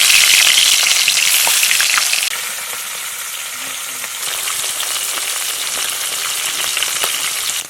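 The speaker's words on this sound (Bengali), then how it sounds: "এবার মাছগুলো এইভাবে ভেজে নেব।" Charapona fish frying in a pan of oil: a loud, dense, continuous sizzle with a hissing crackle, easing slightly partway through, then holding steady to the end.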